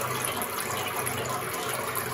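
Water poured into a home fish tank, a continuous gushing, splashing flow that stays close and steady, with no one speaking over it.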